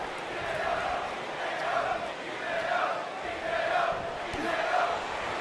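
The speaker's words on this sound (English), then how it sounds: "And the Hideo chants from the crowd" A large arena crowd in the WWE 2K19 video game chants in a steady repeating rhythm, a broad continuous roar that swells and dips in regular waves.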